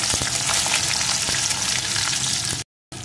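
Whole garlic cloves frying in hot oil with their whole spices, a dense, steady sizzle that stays loud throughout, cutting out briefly near the end before resuming.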